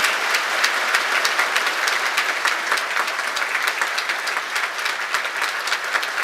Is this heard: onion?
no